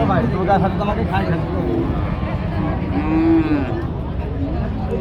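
Cows at a cattle market give a drawn-out moo against a constant rumble of crowd and livestock noise, while someone talks nearby.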